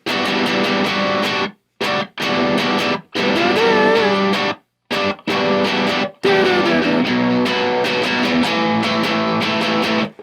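Distorted electric guitar chugging the rhythm part of a song, thick loud chords in bursts broken by short silent stops, played alone.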